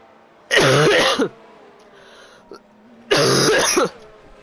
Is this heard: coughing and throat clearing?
yes